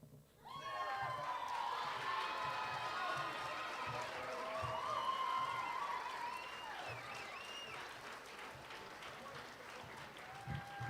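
Indoor audience applauds and cheers steadily for a newly crowned king and queen at a spring school event, clapping sustained and fairly distant with scattered shouts throughout.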